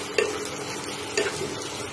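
Potatoes frying in a pan for aloo palak give a steady close sizzle, with two brief louder scrapes of stirring about a second apart.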